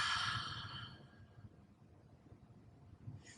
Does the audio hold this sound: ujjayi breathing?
yes